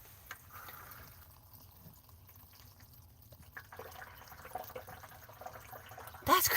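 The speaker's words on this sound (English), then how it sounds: "There is still water just pouring out of this thing." Water keeps pouring out of a broken, wonky pipe in a faint, steady trickling wash. It swells a little louder toward the end, with a sharp noise right at the close.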